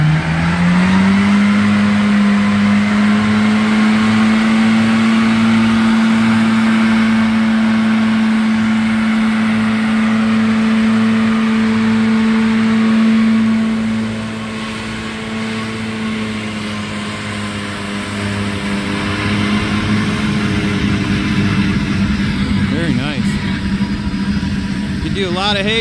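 A tractor-driven farm disc mower with rubber rollers runs while set to cut alfalfa at an agricultural show. A loud, steady mechanical drone holds an even hum throughout, dipping briefly midway before returning to full strength.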